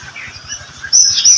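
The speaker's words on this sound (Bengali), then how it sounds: "পাখির কিচির মিচির শব্দ আপনারা শুনতে পাচ্ছেন" Birds chirp in short, bright bursts from garden trees where flocks of migratory birds are nesting. The call grows louder toward the end of the brief moment.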